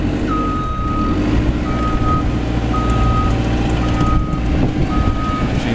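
A Cat telehandler with self-leveling forks and 4,600 hours gives repeated evenly spaced reversing beeps, five clear pulses over a steady diesel engine drone, with no speech.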